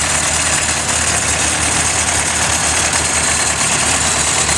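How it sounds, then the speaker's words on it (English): A little Oliver 550 tractor, once kept as a factory yard tractor, idles steadily at close range, its engine rumbling evenly and loudly throughout with no talk over it. "This is kind of a neat tractor, little 550."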